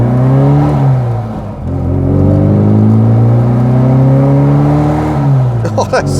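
A 1973 Wood & Pickett Margrave Mini pulls away, its small engine revving loud and near, the pitch dipping at a gear change before rising again. A voice briefly breaks in near the end.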